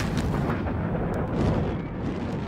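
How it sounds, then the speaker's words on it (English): A massive, sustained rumbling blast of underground liquid propane tanks exploding in a city roars loudly throughout, dense low booming with crackling debris and no speech. "Another devastating explosion rocks the city,"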